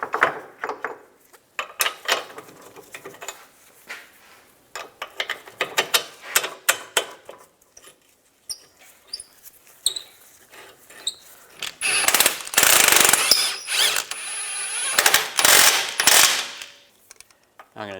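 A ratchet tightens shock absorber bolts on a 2010-2016 Cadillac SRX with quick clicking strokes in irregular bursts. A louder, sustained run of ratcheting comes near the end, all heard close with no talking.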